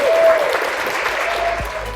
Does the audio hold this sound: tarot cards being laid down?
no